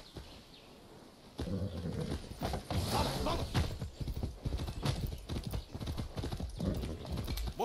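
A horse gallops in the video game Far Cry 6 with quick, steady hoofbeats, close and clear, with occasional creaks and a brief whinny.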